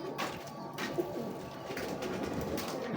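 Lakha and Sialkoti show pigeons coo in a steady low murmur through the whole stretch, close by, with no voices over them.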